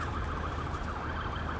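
A fire truck siren wails steadily and loudly through an urban street, its rising and falling tone continuous over a dense background of traffic rumble.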